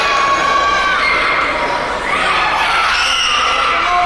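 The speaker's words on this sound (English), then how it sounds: "We can hear the crowd just really flowing behind this" A British wrestling crowd cheering and shouting in an arena, a dense loud roar with higher excited voices rising above it, continuous and close.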